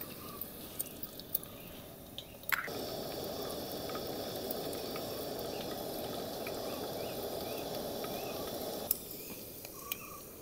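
Mustard seeds and cumin sizzle in hot oil as a tempering, a steady close crackling hiss that starts abruptly and cuts off after several seconds, with faint pops around it and no talking.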